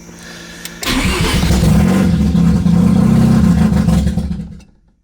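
A Mazda RX7 rotary engine fires up after a quiet stretch with faint background noise, then runs loud and rough for about three seconds with uneven revving before being cut off and fading to silence.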